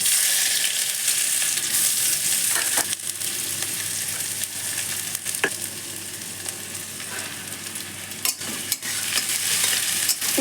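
Chopped onions frying in hot oil with dried red chillies and bay leaves, a bright, steady close sizzle with occasional stirring scrapes and spatula taps.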